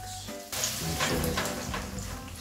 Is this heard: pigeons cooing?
no